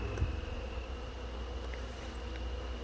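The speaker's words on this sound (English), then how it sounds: "It's a good population of bees in this hive." Honey bees buzz around an open hive in a faint, steady drone, low and continuous with a quiet background hum.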